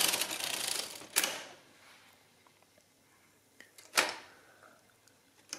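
Mercedes Euklid 16 mechanical calculator running a subtraction: two loud clattering mechanical bursts a few seconds apart, with faint clicks and rattles between them, close and alone.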